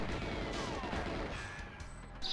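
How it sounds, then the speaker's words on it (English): Explosions in the N64 video game GoldenEye 007 give a quiet, rumbling crash that fades out over a couple of seconds. "Explosions!"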